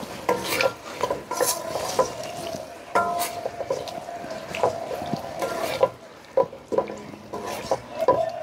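Fish sizzle as they fry with cooked-down spices in a pan, with irregular scraping and stirring strokes and crackling bursts at close range, fairly loud, with no talk.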